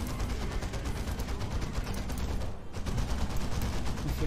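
Rapid explosive strike ammunition firing in a video game, a dense continuous barrage of loud overlapping gunfire bursts with a brief dip partway through before the volley resumes.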